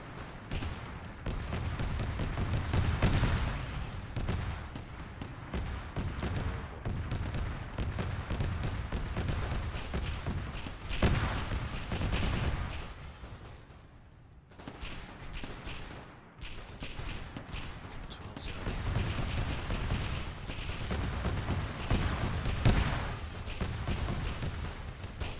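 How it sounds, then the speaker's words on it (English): Heavy, continuous battlefield din of incoming enemy artillery in the Arma 3 Warhammer 40k mission, with dense rumbling booms and blasts rolling on throughout, briefly thinning mid-way before the barrage resumes. "We got enemy artillery coming in under this position."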